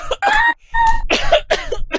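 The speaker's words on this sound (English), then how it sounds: "Concerning cough." A person coughs in several harsh, close bursts over about two seconds, loud and raspy with short gaps between them.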